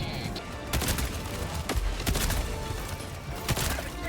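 A machine gun sentry in the Helldivers 2 video game fires bursts of gunfire amid battle noise, with sharp repeated shots over a dense rumbling background.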